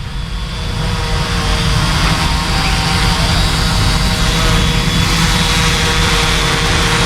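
Cheap fishing drone hovering steadily during a test flight: a loud, continuous, close buzzing whine with constant motor tone throughout, no talking.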